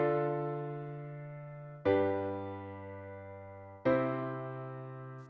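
A perfect cadence from chord V to I is played as three sustained piano-like chords, each struck cleanly and left to ring and decay, close and fairly quiet with no voices.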